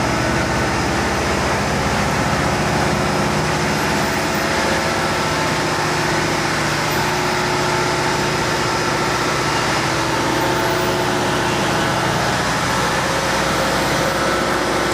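Generators and main engines in the engine room of a 5,314 gross tonnage ship run together in a dense, steady mechanical roar that stays loud and even from start to finish, with no voices.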